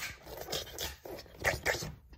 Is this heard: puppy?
yes